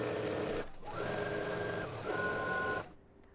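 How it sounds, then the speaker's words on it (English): Sewing machine stitching fabric pocket pieces together for a McCalls 7726 garment, close whirring motor bursts in two runs of about a second each with short pauses, then it stops. "now that I have my pocket pieces sewn"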